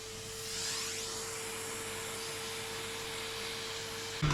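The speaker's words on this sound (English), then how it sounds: "So hoover the majority of that off again." A vacuum cleaner hoovers long grass off a model railway yard layout, giving a steady close whooshing hiss with a constant tonal hum that swells slightly early on and cuts off with a clunk at the end.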